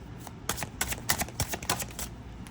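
Tarot cards are pushed back into a deck by hand, a quick run of dry papery taps and flicks, close and fairly soft, in an uneven rhythm with no talking.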